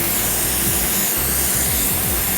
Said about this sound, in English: we're gonna spray mainly out here on this white paper